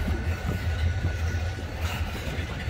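A Florida East Coast Railway FEC-206 freight train with hopper cars rolls past at New Smyrna Beach Yard in Florida, a steady, loud low rumble of wheels and cars with no pauses or talk.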